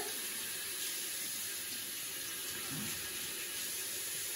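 Warm tap water runs steadily into a sink during handwashing, a continuous close gush with no pauses.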